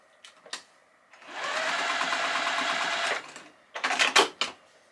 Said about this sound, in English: And then I just sew them together along this edge at a 1/4 inch seam allowance.